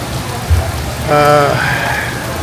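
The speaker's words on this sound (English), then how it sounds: "it's raining pretty good here" Heavy rain pours at the Roatan cruise port, a steady hiss of rainfall on surfaces, close and continuous, with a brief tonal sound partway through.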